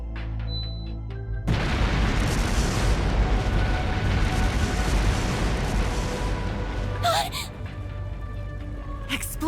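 Explosive artifacts detonate in the Trails Through Daybreak video game, a sudden heavy boom giving way to a sustained roaring rumble of blasts that trails off, followed by sharp sound-effect accents near the end.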